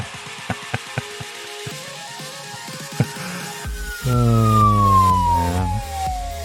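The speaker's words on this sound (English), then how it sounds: "Are you all doing sirens?" Scattered knocks, then a loud siren rises in and wails with a falling pitch sweep, fairly close.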